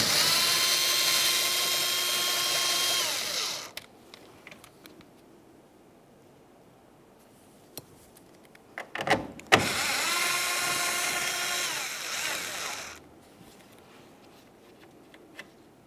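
A power ratchet runs on the two 8mm mounting nuts of a 2012-2018 Nissan Altima tail lamp in two whirring bursts of about three seconds each, with small clicks and clunks from handling the tool in between.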